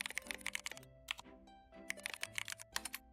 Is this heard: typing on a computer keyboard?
yes